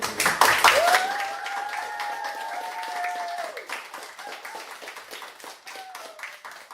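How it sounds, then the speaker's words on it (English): A small group claps briefly in a round of applause, a burst of quick claps that fades fast while a voice talks over it at length. "I think another round of applause."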